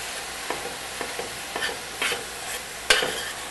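Ground meat browning for spaghetti sizzles quietly in a pan while a utensil scrapes and stirs it in several distinct strokes, close and without talk.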